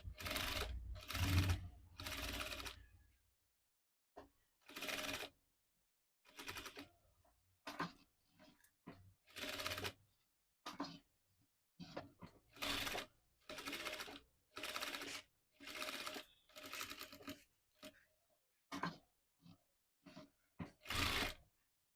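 A sewing machine stitches blouse lining and canvas together in repeated bursts of rapid mechanical whirring, each lasting a second or two, separated by short silent pauses, close and clear.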